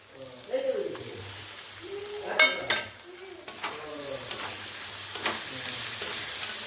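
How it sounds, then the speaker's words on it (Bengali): Ginger paste frying in a pan with already-browned onion and garlic for a mixed mutton curry, soft sizzling with scraping stir strokes and clinks of the spoon, while someone talks over it. "আদাটাও ভালোভাবে ভেজে নেব"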